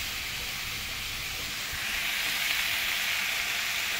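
Potatoes and pointed gourd fry in a pan in a home kitchen, giving off a steady sizzle and hiss. The noise swells slightly partway through and continues alone with no voices.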